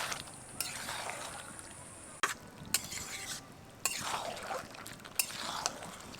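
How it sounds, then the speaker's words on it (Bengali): Yogurt-marinated chicken being stirred in a pan, with soft scraping strokes and a low sizzle as the meat releases liquid, several louder scrapes punctuating a steady frying background. "ম্যারিনেট করে রাখা মাংসটা দেওয়ার পর কিন্তু এটা একটু সময় নিয়ে খুব ভালোভাবে নাড়বো"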